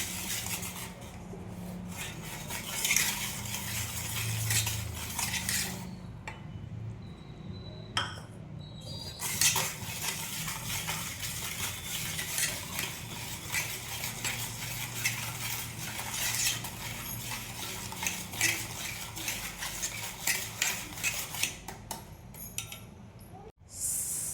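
Oil and sugar for a New Year cake being stirred in a bowl, with continuous close scraping and rubbing strokes and occasional clinks of a utensil against the side, broken by a few short pauses.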